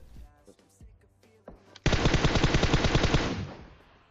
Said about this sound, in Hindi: वहां पे दबा के गोलियां चल रही है